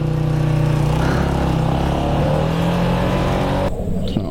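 A 1987 Yamaha SRX 250 motorcycle rides by on a street, its engine a loud, steady droning hum close by that cuts off abruptly near the end.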